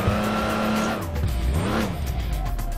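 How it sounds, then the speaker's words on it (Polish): A car engine revs in the Crash Time 2 driving game, rising and falling in pitch with sweeping revs, tire squeal and a passing-car rush, loud and continuous without talk. "Słuchajcie, jaki ma silnik"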